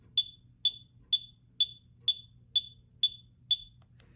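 A Boss DB-30 digital metronome clicks eight times at a steady, fairly quick tempo, each click a sharp, bright electronic beep standing out clearly over a faint low hum.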